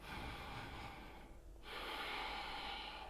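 Slow breathing during a yoga stretch, a long airy breath, then a brief pause and another steady breath, soft and close with nothing else heard.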